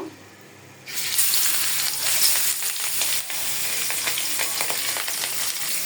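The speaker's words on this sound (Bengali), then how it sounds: "এদিকে মাছও ভাজি করে ফেলতেছি" Fish fries in a pan, a loud steady sizzle starting abruptly after a moment of near silence, with occasional stirring crackles.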